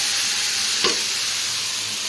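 Moong and matar dal sizzle as they fry in a cooking pot for village-style khichuri. A steady, even frying hiss runs throughout, with one brief scrape from stirring near the middle.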